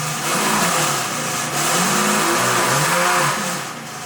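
A Ferrari Enzo's engine revs during a cold start while the car stands still, a loud, continuous engine note with induction noise that rises and falls through a couple of throttle blips, close and alone without talk.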